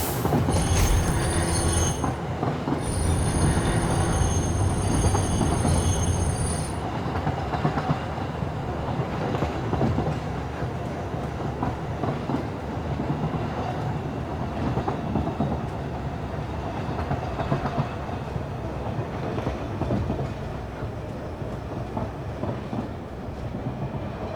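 A train runs on rails in the video game Satisfactory, its steady rumbling roll loud and continuous with high wheel squeals near the start and a clickety rhythm underneath.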